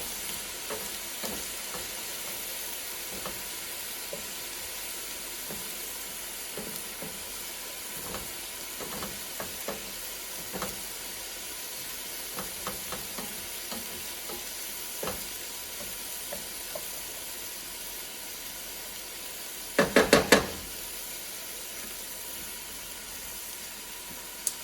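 Vegetables sizzle and fry in a chili pot on the stove, a soft steady hiss with scattered small taps and scrapes of stirring and a brief louder clatter near the end.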